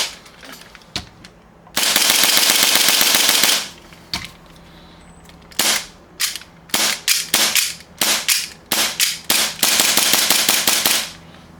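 KP-19 HPA airsoft pistol dry firing: a sharp, loud staccato of rapid clicks and snaps, first in a long sustained burst, then in a series of short, separate bursts with brief gaps between them.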